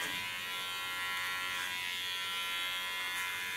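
A small electric hair clipper trims hair around the ear during a bob haircut, giving a steady, close, high-pitched buzz that runs unbroken throughout with no talking.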